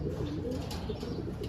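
A pet pigeon coos softly close by, a few low burbling notes in a quiet room with no talk.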